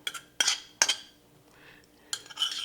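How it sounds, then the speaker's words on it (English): A spoon scoops an onion, garlic and bacon mixture into a hollowed whole cabbage, giving several bright metallic clinks and scrapes against a bowl in short bursts separated by pauses. "we are going to spoon our onion, garlic, bacon"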